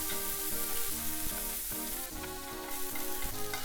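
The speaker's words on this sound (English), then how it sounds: "after about another minute of stir frying, this is finished" Bean sprouts sizzle and crackle steadily in a hot pan while stir frying, with scraping and clinking of a utensil stirring throughout.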